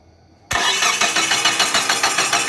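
A car engine with a faulty camshaft position sensor is cranked by its starter and fails to catch, giving loud, rhythmic whirring pulses that begin abruptly and continue alone.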